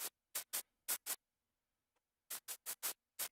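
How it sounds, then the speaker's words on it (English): A finger scratching a microphone, run through effects, makes bursts of broad, noisy scratching in a quick rhythmic pattern, a pause, then another cluster of four or five bursts, close and alone. "that sound was me scratching my fucking microphone with my finger"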